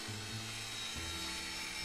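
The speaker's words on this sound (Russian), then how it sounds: "берем машинку и начинаем уже зачищать саму башню" A grinding machine scours the turret of a Sherman tank in Tank Mechanic Simulator, giving a faint, steady low whirring hum that shifts pitch slightly partway through, with no other sounds.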